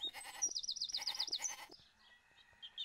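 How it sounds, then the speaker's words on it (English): Sheep bleat in the Sega CD version of the strategy game PowerMonger, two or three close, wavering bleats followed by quieter synthetic game tones, with no talking. "Today, a sheep."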